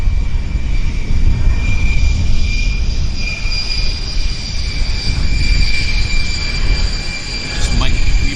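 Jet airliner rolling down the runway for takeoff at Vancouver YVR airport, a loud continuous engine roar with a steady high whine, heard from the spotting area.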